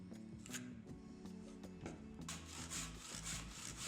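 A handsaw cuts through wooden skirting blocks in rapid, close strokes that grow harsher and louder near the end.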